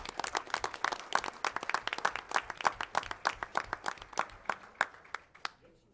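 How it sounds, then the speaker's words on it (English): A school board meeting audience applauds students with rapid, dense clapping that gradually thins out and fades to a few scattered claps by the end. "So let's give these students a huge round of applause."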